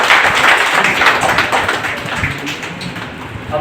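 Scattered hand clapping from a small group at an office gathering for the Gandhi and Shastri Jayanti celebration, a dense irregular patter that stays steady and moderately loud with no talk.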